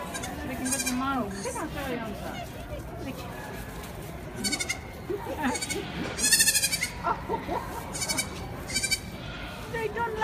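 Several baby goats bleat in quick succession, growing louder and more frequent midway, with people talking in the background.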